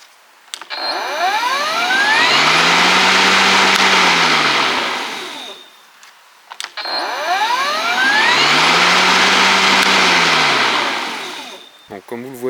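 An EGO LM1903E-SP 47 cm electric self-propelled lawn mower spins its blade up twice, each time rising to a loud steady whine, holding, then winding down, with a click between the cycles.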